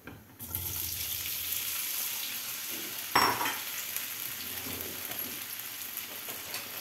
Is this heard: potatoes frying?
yes